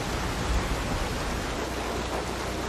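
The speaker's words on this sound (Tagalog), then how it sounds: "Gary, anong itsura ng ulan ngayon habang bumabagsak?" Steady rain falls in a dense, even hiss with no voices, continuous and close for the whole stretch.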